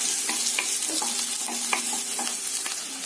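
Green chillies sautéing in hot oil in a pan for a Tirunelveli sodhi kuzhambu, with a steady sizzle and repeated scraping stirs of a spoon at a regular pace, close and fairly loud, with no talking.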